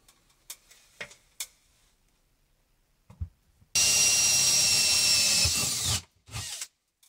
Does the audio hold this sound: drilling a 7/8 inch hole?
yes